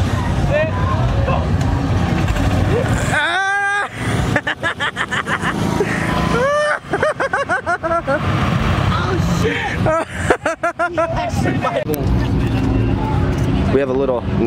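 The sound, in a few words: turbocharged Nissan truck drag racing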